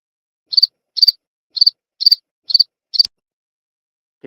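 Crickets chirping in clean, evenly spaced bursts, six short double pulses about half a second apart, close and clear against silence before a faint low sound at the end.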